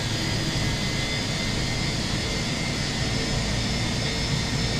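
Engine number 1 of an Airbus A320 in Microsoft Flight Simulator 2024 roars steadily, a loud, unbroken broadband jet rumble with a bright high hiss that holds level throughout.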